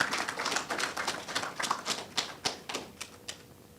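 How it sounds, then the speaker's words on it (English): A small audience at a government memorandum-signing ceremony claps in a loose, uneven patter of distinct hand claps, which thins out and fades toward the end. "So again, let us give everybody a round of applause."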